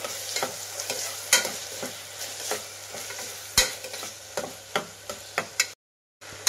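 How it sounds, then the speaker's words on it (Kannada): Chopped medium tomatoes fry in a pan for a mixed sprouts palya, with a steady sizzle broken by repeated clacking stirs of a spoon against the pan, close and fairly loud, with no talking, before a brief dropout near the end. "ಸಣ್ಣದಾಗಿ ಟೊಮೆಟೊ ಹಾಕ್ತಾ ಇದ್ದೀನಿ. ಇದು ಅಷ್ಟೇ ಫ್ರೈ ಮಾಡಿ."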